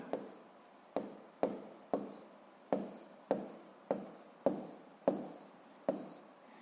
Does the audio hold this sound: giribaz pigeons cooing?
no